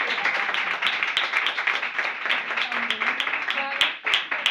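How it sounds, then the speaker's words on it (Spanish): Applause from an audience at a live storytelling reading fills the space, a dense wash of many hands clapping at a steady roar that swells and dips slightly. "Pues un aplauso."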